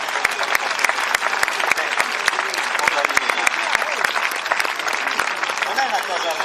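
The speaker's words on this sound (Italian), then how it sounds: "Sentiamo un po' di applausi pubblico." A crowd applauds at a horse event in Oristano, Sardinia, with sustained lively clapping and sharp individual claps standing out throughout, and voices murmuring beneath.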